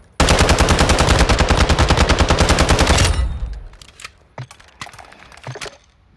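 Rapid automatic gunfire from a low-recoil long-range rifle in Call of Duty Warzone, a loud sustained burst of about three seconds, then a few scattered sharp shots and clicks.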